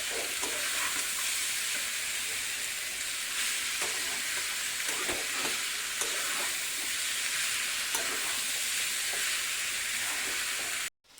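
Chicken momo filling fries and is stirred in a pan, a steady, close sizzle with repeated scraping stirs running without a break until it cuts off abruptly at the end.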